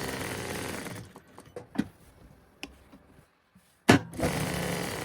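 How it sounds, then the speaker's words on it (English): A sewing machine stitches through two pocket bags in short, intermittent bursts with pauses between them, ending in a louder continuous run. "I'm just going to machine down here across the bottom and then up the other side"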